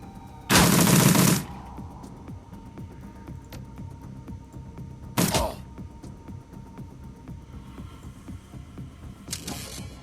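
Gunfire in the video game Shadowrun: Dragonfall: a loud sustained burst of shots, then a shorter burst several seconds later and a faint third near the end, over a low steady hum.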